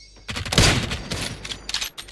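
A short burst of rapid machine-gun fire in PUBG during a championship match, several quick shots bunched together in the middle and trailing into a few scattered pops, close and fairly loud.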